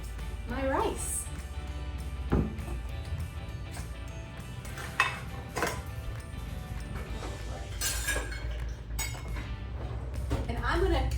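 A metal pot taken out and handled in a home kitchen while cooking rice gives scattered clinks and clanks, with a few sharper knocks under steady background noise and a speaking voice.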